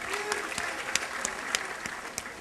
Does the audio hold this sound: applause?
yes